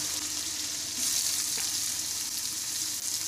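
Panch phoron spices sizzle in a little hot oil for a Bengali mango curry, giving a steady close crackling hiss with a brief louder flare near the middle and no talking.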